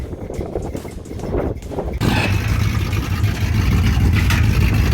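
A 1967 Pontiac Firebird engine idles with an uneven, loping rhythm, then swells into a louder, steady rumble nearby.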